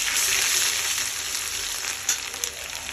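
Ginger paste hits hot oil with Bengali five-spice (panch phoron) for shukto, a loud continuous sizzle that eases slightly, with a couple of sharp spits near the end.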